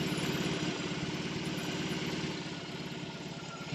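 A BMW R18 motorcycle's big engine runs steadily at a low idle nearby. It gives a continuous, throbbing rumble with an even pulse, heard alone without voices.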